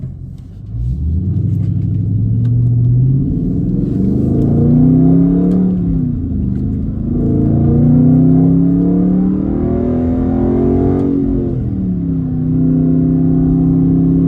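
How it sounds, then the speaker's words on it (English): A car set to manual mode with paddle shifters revs continuously and loudly, its engine pitch climbing, dropping sharply at each gear change and climbing again through several shifts, with no talking over it. "I'm gonna let it drive and watch it shift on its own."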